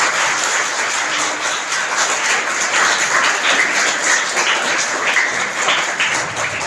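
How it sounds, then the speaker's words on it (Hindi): Children at a school quiz competition clap loudly together, a thick, continuous roll of applause that stays strong and even for several seconds in a large room. "ताली जोरदार पीछे तक आवाज आ रही है"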